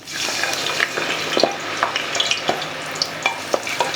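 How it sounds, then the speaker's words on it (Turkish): Potato pieces deep frying in heated oil for maqluba, a continuous close, loud sizzle and crackle with regular sharp spatter pops and clinks throughout, no voices. "Patatesler yavaş yavaş kızarıyor."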